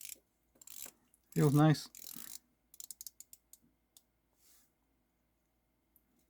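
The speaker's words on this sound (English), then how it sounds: "let's play with the bezel action first" Ratcheting clicks from the rotating ceramic bezel of an Epos 3504 dive watch, a short burst of rapid clicks followed by a scattered series of single sharp ticks, close and crisp, with a brief spoken comment early on.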